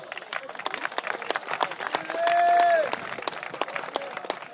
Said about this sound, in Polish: Także myślę, że ogromne brawa dla niego.